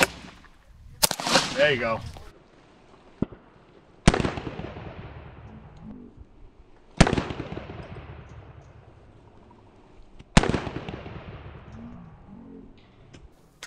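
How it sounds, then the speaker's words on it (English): AK rifle shots fired at level 4 body armor outdoors, four sharp loud cracks spaced a few seconds apart, each ringing out with a decaying echo, with brief talk in between. "so it just took 3 shots of the AK. It didn't penetrate"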